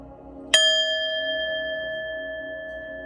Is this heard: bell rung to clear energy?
yes